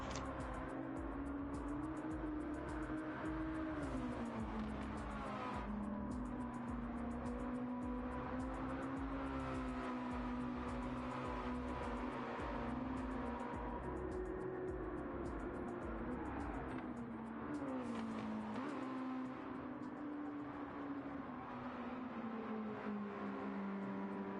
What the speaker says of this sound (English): We can listen to the engines roar for just about a minute